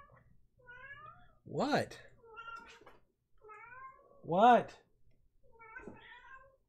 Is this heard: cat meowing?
yes